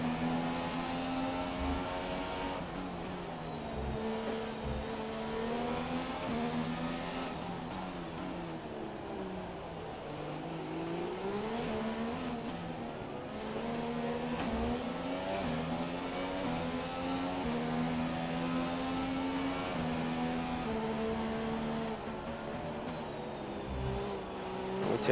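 A McLaren Formula 1 car's engine drones through the Monaco Grand Prix in F1 2017, its loud, continuous tone rising and falling with throttle and gear changes and no voices over it.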